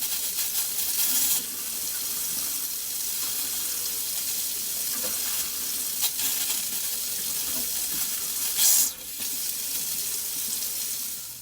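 Hot water runs steadily from a sink faucet as air is purged from the lines after a water heater flush, a continuous hissing stream with occasional spurts and sputters and no talking.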